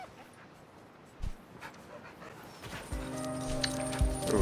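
Sled dog pups in the video game Red Lantern yip and bark in short bursts amid light thumps and clatter, growing busier toward the end over a steady low ambient bed.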